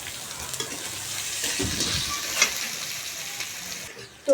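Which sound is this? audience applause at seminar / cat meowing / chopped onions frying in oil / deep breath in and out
chopped onions frying in oil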